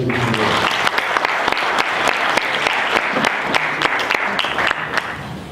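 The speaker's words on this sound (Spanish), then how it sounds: "pedimos justamente a los asistentes un fuerte aplauso para nuestros invitados" Loud, sustained applause from a sizable audience, steady dense clapping that fades slightly at the end.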